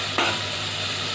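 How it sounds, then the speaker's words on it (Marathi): A single sharp sizzle bursts as tempering hits hot oil in a pan for sprouted moong usal, then settles into a steady low frying hiss. "मी थोडंसं तेल अजून घालते कारण फोडणी चांगली भाजण्यासाठी"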